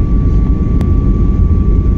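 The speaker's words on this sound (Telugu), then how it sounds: "ఏంటి బ్రో అలా ఊగుతుంది ఫ్లైట్?" A passenger airliner flying from Kuala Lumpur to Langkawi fills the cabin with a loud, steady low engine roar and airflow hum, close and constant, with a faint tonal whine over it.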